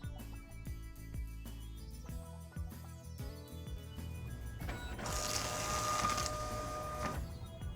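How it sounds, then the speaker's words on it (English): A Zebra ZT211 industrial label printer runs off a configuration label, with stepper-motor whirring, a few clicks and a rising mechanical buzz, close up and with no voices. "Under Print Configuration label, click Print."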